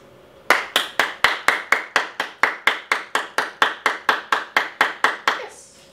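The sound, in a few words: hands clapping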